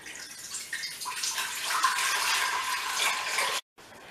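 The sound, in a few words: water poured from a kettle into a pan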